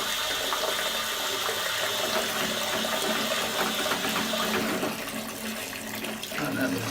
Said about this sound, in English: And that looks like about all the water I'm going to put in that bucket.